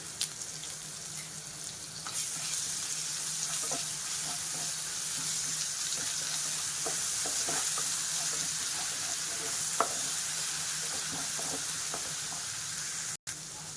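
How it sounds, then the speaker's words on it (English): Onions fry in a pan until light golden brown, giving a steady, dense sizzle throughout, with occasional soft clicks and taps of stirring and no one speaking. "Onions లైట్గా golden brown కలర్లోకి వచ్చేంత వరకు ఫ్రై చేసుకుందాం."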